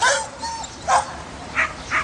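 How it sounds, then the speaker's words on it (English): Dogs at a remote mountain cabin give several short, high yips and whimpers, spaced out over two seconds. The sounds are moderately near, with steady background noise underneath. "The other two dogs started barking a little bit and whimpering"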